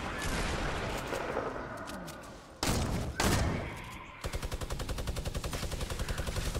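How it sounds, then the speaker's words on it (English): Gunfire in a Fortnite squad match: dense bursts of shots, a couple of heavy blasts, then a rapid, evenly spaced stream of automatic fire, loud and close. "I'm suppressing them."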